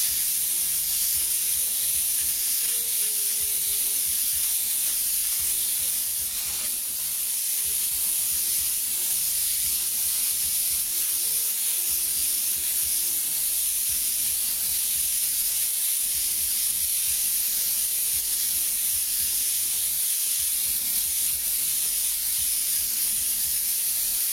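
Spray paint sprayed in wide passes to add shadows on a crinkled, bent American flag artwork; a steady, loud continuous hiss runs throughout with brief breaks between bursts, no talking.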